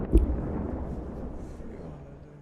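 A distant explosion booms at the start during wartime, followed by a low rumbling wash that slowly fades out.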